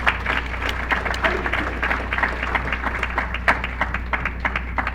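An audience at a college soccer showcase info session gives a round of applause, a busy patter of many hands clapping at a steady moderate level.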